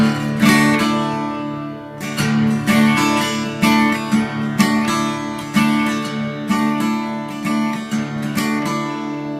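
Acoustic guitar strummed alone in a steady down-and-up pattern, chords ringing bright and full with short pauses between bursts.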